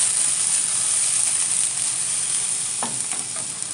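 Brinjal slices fry in a pan with a steady, close, loud sizzle, and a few scraping stirs come through near the end.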